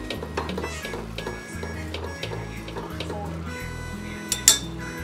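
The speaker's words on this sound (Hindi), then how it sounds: "ऐसे थोड़ा सा लेके चम्मच से ऐसे ऐसे मिक्स कर देना है" A metal spoon stirring food colour in a pan makes light repeated scraping and clinking against cookware, with a couple of sharper clinks near the end, over a low background hum.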